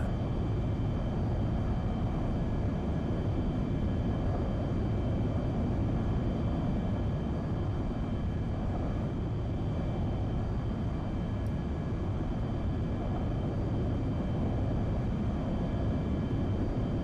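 Roaring jet noise from an English Electric Lightning with afterburner lit, a steady, dense broadband rumble sustained throughout, heard from inside or close to the aircraft, with no speech.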